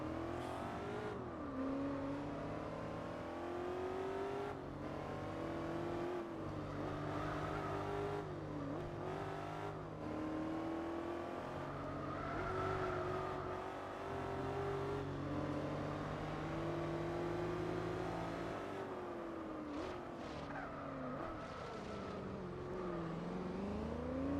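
Porsche race car in Gran Turismo 4 with a steady, loud engine drone that rises and falls through gear changes and revs, continuous and close for the whole stretch.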